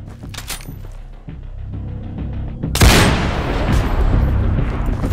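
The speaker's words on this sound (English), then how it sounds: "Gunshots." Loud bursts of gunfire in the video game Ghosts of Tabor, scattered shots at first and then a heavy sustained barrage with booming, rumbling echoes.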